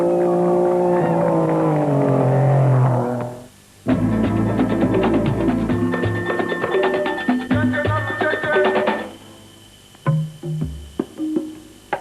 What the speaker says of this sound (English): Well, the truck's also heading out today. The silence about to be broken by the monsters of the Dakar.